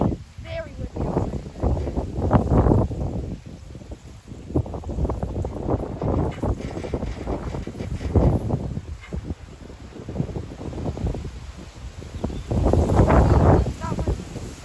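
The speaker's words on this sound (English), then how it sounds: "It's very windy outside." Strong gusty wind buffeting the microphone outdoors at a bass fishing spot, a continuous loud roar that rises and falls in surges for the whole stretch.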